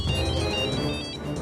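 A telephone ringtone rings on and on, loud and close, with no answer and no voices.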